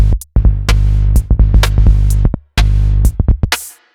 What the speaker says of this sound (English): But when you put the bass together with this hi-hat and clap, it sounds like this.